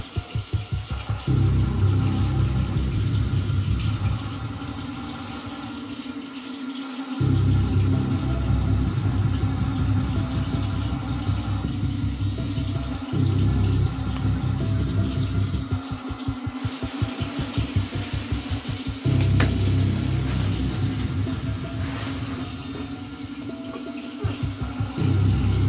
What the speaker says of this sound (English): Okay, you're putting the hot water on.